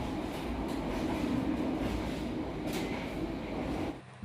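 Steady rumble of a moving train heard from inside a stainless steel restaurant car, with faint rhythmic clatter and a drop in noise near the end.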